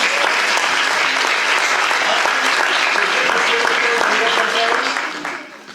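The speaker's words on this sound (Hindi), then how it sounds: "तालियां बजाइए।" Audience applauding at the end of a children's Hindi theatre play, with dense, steady clapping at a constant level that tapers off in the final second, while speech murmurs faintly underneath.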